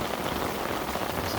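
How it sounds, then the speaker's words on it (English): Torrential rain pours down at a fishery stream, a dense, steady hiss of heavy drops pattering on surfaces, loud and continuous with no voices. "occasion got torrential rain as soon as we got down to the stream"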